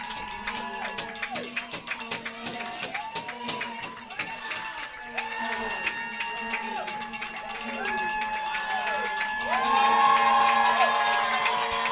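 Spectators at an NC State versus Notre Dame women's soccer match cheer and shout continuously, the crowd noise swelling louder toward the end while a commentator talks over it.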